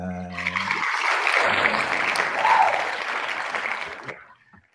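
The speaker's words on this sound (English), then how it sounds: "Not more applause than that." A podcast audience applauds as the artist Frank Ordaz is welcomed, a brief burst of clapping that swells quickly, holds for a few seconds, then tapers off. A voice is heard briefly at the very start.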